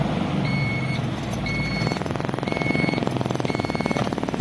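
An Isuzu truck with a 4HL1 engine runs during a brake test, its diesel rumble steady beneath a regular, repeating beeping alarm that sounds four times, close and fairly loud with no talk.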